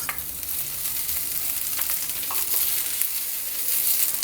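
Onion, carrot and capsicum fry in a pan for veg spring rolls, giving a continuous close sizzle broken by scraping stirs and light clinks, with no talking.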